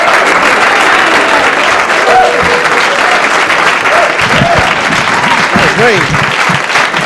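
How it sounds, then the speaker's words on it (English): An audience claps for a comedian, a loud sustained burst of dense applause filling the room, with a voice briefly speaking over it toward the end. "Please, a nice round of applause for Mr."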